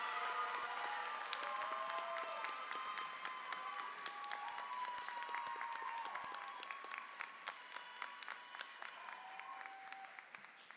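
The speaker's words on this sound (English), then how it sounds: "would you please, along with me, along with the faculty and staff of Western State, give a round of applause for Jeremy" At a law school commencement ceremony, the audience gives a long round of applause for an award recipient, many hands clapping steadily and then gradually thinning and fading out over about ten seconds.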